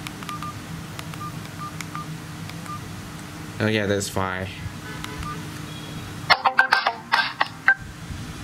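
A Masstel Fami 12, a cheap MediaTek feature phone, plays bursts of tonal beeps, first a short cluster and then a louder run of rapid electronic tones, and a voice speaks briefly between them.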